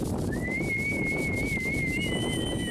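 A person whistles one long, steady, slightly wavering note, copying an elderly grandfather, over loud, continuous Himalayan mountain wind; a second higher whistle joins near the end.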